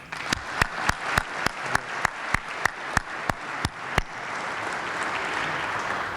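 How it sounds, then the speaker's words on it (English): Applause at an awards reception honoring a mayor: a roomful of clapping with strong, evenly spaced loud claps from one nearby pair of hands over the crowd, which thins into a softer wash. "Please, another round of applause for our mayor."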